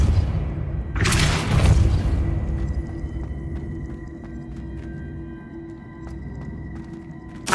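Depulso spell cast in the Hogwarts Legacy video game, a heavy booming thump that swells loudly for about a second, then decays into a low rumbling tail with scattered faint clicks.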